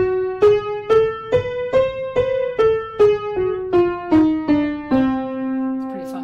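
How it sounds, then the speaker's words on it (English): An octatonic diminished scale played note by note on a pitched instrument, about a dozen evenly spaced, clear tones rising and then descending, each struck note ringing briefly before the next, with a final longer sustained note. "And then there's an octatonic scale."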